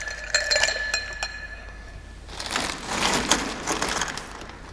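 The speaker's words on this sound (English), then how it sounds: "I've got a bag of ice on the floor." A bag of ice handled on a floor while cocktails are mixed, opening with bright clinks of ice against glass, then a longer crunchy rustle of cubes shifting and crushing inside the bag.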